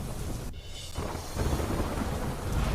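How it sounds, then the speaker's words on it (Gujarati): Heavy rain pours down steadily on a Delhi street, with a deep rumble of thunder rolling underneath and a brief dip in the noise early on before the downpour swells again. "દિલ્હીમાં ભારે વરસાદ વરસતા વધી લોકોની સમસ્યા."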